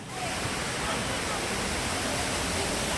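Money Falls in Valparai, a waterfall fed from the Anaimalai hills, roars as a dense, steady rush of falling water, loud and close for the whole stretch with no voices over it.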